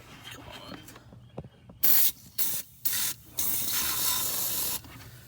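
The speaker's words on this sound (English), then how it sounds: "when you start the car, you're going to want to spray that shit in there." Coil cleaner is sprayed from an aerosol can into the evaporator of a 2013 Chrysler Town and Country, loud near hissing bursts, two short sprays followed by a long steady one, after softer rubbing noises.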